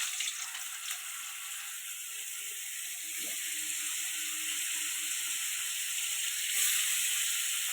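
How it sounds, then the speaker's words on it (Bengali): Cauliflower fries in oil left from frying fish, a fairly quiet, steady hiss of sizzling with a few faint clinks and scrapes. "ওই তেলেতে একটু ফুলকপি ভেজে নেব।"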